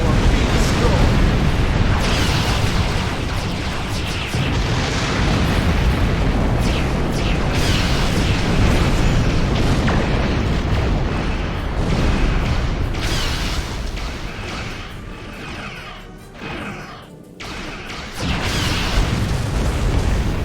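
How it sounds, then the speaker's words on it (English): TOS disruptor cannons fire in Star Trek Online during a Klingon Defense Force space battle, repeated heavy booming blasts over a dense continuous rumble of combat noise. "Your ears do not deceive you. That was indeed a TOS disruptor cannon."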